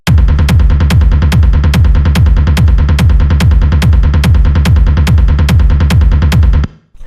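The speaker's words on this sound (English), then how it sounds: "at the top we have the kick, which sounds like this" A hard melodic techno kick drum built from two layers pounds at 144 BPM, loud and punchy with booming low thumps and a clicky top in a relentless even pulse, cutting off near the end.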